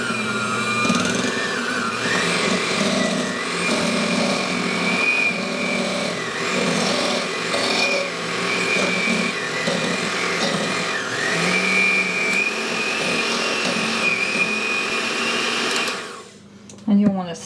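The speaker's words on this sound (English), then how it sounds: "Then we're going to take our hand mixer and mix this until it's smooth." An electric hand mixer whirs continuously and loudly through a bowl of cream cheese and powdered sugar for a strawberries and cream dessert, its pitch wavering slightly as it works before stopping at the end.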